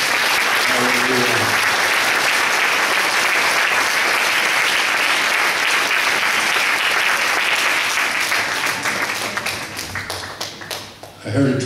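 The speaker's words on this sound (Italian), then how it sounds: "Fate un applauso al Signore." A church congregation breaks into loud, sustained applause, dense even clapping filling the room and then fading near the end as a voice returns.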